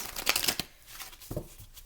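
Tarot cards are shuffled close up, a dense crisp riffle of papery flicks for about half a second, then quieter brief card taps and a second short shuffle burst.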